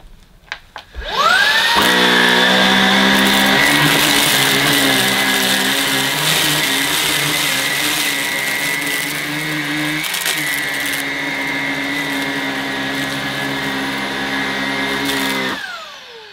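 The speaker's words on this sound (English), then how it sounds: "I'm just going to pass the cleaner forward and back through the middle of this on its medium setting." A Halo Capsule bagged cordless vacuum cleaner runs on its medium setting over short-pile carpet, a loud steady motor whine that starts up, holds with a slight shift midway as it passes forward and back, then cuts off.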